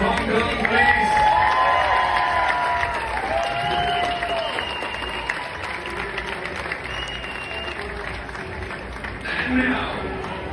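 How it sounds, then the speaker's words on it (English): An audience applauds and cheers for the Hong Kong team receiving silver at a medal ceremony, a sustained burst that slowly tapers with scattered whoops and voices mixed in. "another round of applause for Hong Kong, please"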